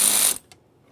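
A ratchet spins off a 10mm bolt from the window motor bracket of a 2015-2020 Ford F-150, one short loud burst of rapid clicking that stops abruptly, followed by a faint single tick.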